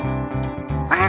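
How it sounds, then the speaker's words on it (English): A cartoon duck for a baby farm-animal lesson quacks in a quick series of close, nasal calls, four or five bursts with the last one brighter and louder, alone with no talk. "Duck"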